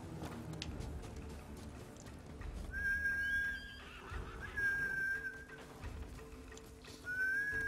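A horse in the video game Ghost of Tsushima neighing several times, high drawn-out whinnies repeated over a few seconds, mixed with hoof clip-clops and faint game background noise.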